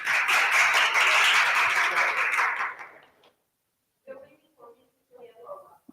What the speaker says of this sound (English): Please give a round of applause to him.